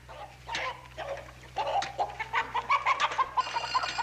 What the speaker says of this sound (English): he loves them chickens just like they was children